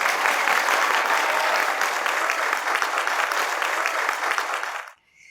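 A studio audience at a stand-up comedy show breaks into loud, sustained applause, a thick wash of clapping from many people that holds steady for about five seconds and then stops abruptly.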